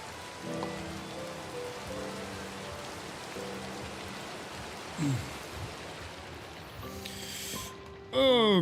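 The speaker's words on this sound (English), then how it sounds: "Why is it always raining?" Steady rain pours down in Minecraft on a multiplayer server at night, a constant hiss filling the scene, with brief tonal game sounds now and then.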